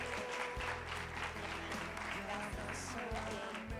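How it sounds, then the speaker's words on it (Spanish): A church congregation at a prayer centre applauds, a steady wash of clapping held at an even level throughout, with low hum and faint voices underneath. "Vamos a darle un aplauso al Señor."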